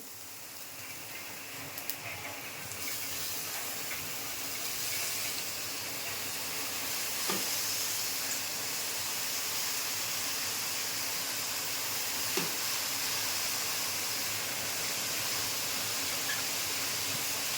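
Kurdu wild greens fry with softened onion in a pan, giving a steady, fairly quiet sizzling hiss with a couple of light clinks and no voices.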